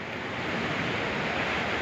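Surf at Gemah beach in Indonesia washes in as a dense, steady roar of breaking waves, broadband and close, with wind mixed in and no voices.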